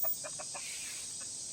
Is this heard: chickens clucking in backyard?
yes